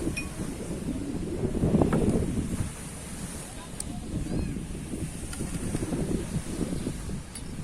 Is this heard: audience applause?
no